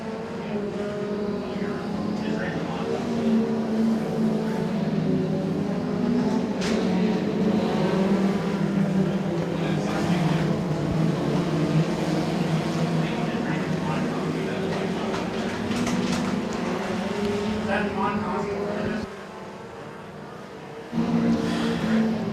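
Compact race cars racing at Moler Raceway, a continuous droning roar of several engines that holds steady for a long stretch and dips briefly near the end, under a commentator's voice.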